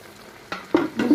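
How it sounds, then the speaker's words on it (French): Vegetables sizzle and crackle in a hot pan, heard as brief scraping bursts as they are stirred, each followed by soft frying hiss. "mes légumes sont en train de cuire"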